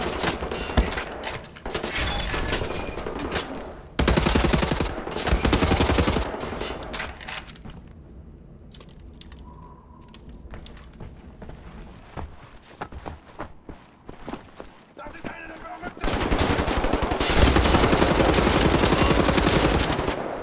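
Bursts of rapid automatic gunfire in the shooter game Wolfenstein: The New Order, loud and dense, come in heavy volleys separated by a quieter lull before the firing swells again.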